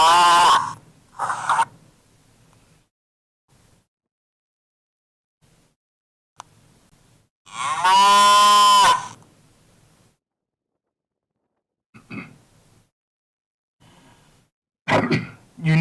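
A voice imitates cattle mooing in a model railroad setting, with one long, loud, drawn-out moo in the middle surrounded by shorter grunting and throaty bursts separated by silence.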